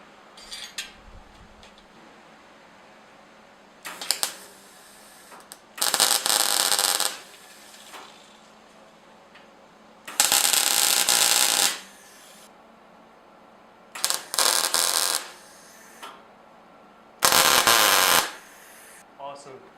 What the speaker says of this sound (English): we're going to go ahead and start tacking together some frames to build out the table